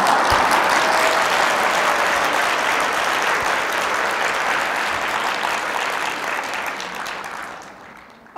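Audience applause at a lecture, a sustained wash of many hands clapping that stays loud and even for about seven seconds before tapering off, with no speech over it.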